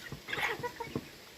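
Native chickens clucking close by in a backyard flock, a few short irregular clucks and calls over a quiet, low background.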